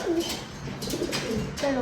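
A pigeon nesting on eggs coos softly a couple of times, close by, with faint background noise and murmuring around it.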